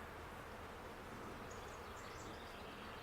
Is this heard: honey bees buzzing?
yes